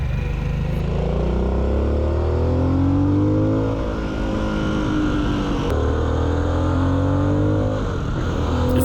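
Harley-Davidson Sportster S motorcycle engine revving up as it accelerates, a loud, steady exhaust note with rising pitch that dips and climbs again, with no voices.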